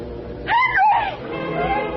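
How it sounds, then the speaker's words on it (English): A woman's sudden, loud scream, used as a sound effect in a 1950s radio drama, rises sharply and then wavers for about half a second over a low, steady background bed. "And suddenly I heard a scream."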